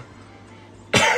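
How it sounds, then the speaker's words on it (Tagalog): A single sharp cough bursts out near the end, loud and close after a quiet, low-hum pause. "Sorry guys, inuubo ako."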